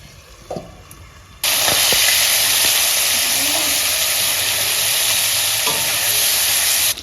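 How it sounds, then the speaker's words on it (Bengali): Marinated shrimp hit the hot oil in a kadai with a sudden loud burst of sizzling. The hiss then stays steady and loud, broken by a few clinks of stirring. "এখন মাখানো চিংড়ি মাছগুলো দিয়ে দেবো কড়াইতে।"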